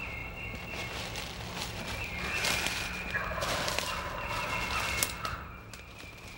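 A wild turkey gobbles in the distance on an early March morning in southwest Mississippi, faint rattling calls rising over steady outdoor ambience, with a few soft rustles and steps.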